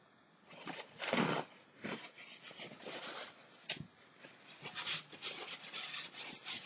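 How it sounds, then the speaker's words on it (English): Soft, irregular rubbing strokes as paint is wiped off a painted garden gnome, quiet and close, in uneven bursts with brief pauses and no talking. "there, just rub it like that"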